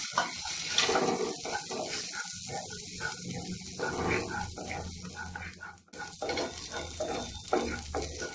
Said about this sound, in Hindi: तो अब मैं ये फ्रेश मटर डाल दे रही हूँ।